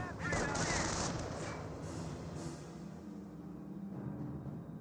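Bursts of machine-gun and rifle fire in a Company of Heroes 1 battle between US and Wehrmacht forces, loud rattling volleys up front fading into a continuous background of distant gunfire and battle noise.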